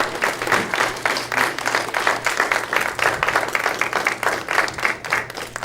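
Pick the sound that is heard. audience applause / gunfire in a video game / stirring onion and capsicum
audience applause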